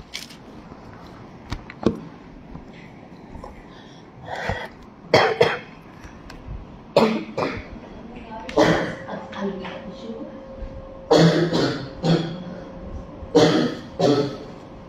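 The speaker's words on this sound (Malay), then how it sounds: "batuk tu lambat sikit nak pergi" A person recovering from a two-day fever coughs and clears their throat in several sharp, close bursts spread through the stretch, with some quiet speech between them.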